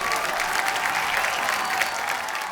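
A studio audience on The Kapil Sharma Show applauds loudly and steadily, a dense sustained wash of clapping from a crowd throughout.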